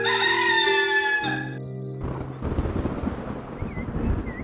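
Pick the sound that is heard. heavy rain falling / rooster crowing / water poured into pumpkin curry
rooster crowing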